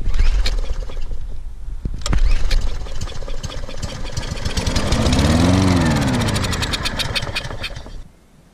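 A Poulan 21-inch lawn mower with a Kohler XTSeries engine cranks and tries to start, giving a loud, uneven sputtering chug that surges and rises briefly before cutting off abruptly at the end.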